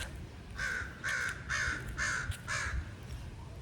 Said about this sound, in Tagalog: ang ingay ng uwak